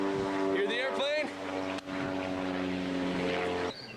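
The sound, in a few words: airplane flying overhead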